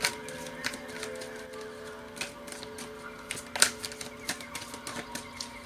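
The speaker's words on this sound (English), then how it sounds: "I'm about to reshuffle" Tarot cards are handled and shuffled in quiet, irregular bursts of soft clicks and flicks, close by and with no talk.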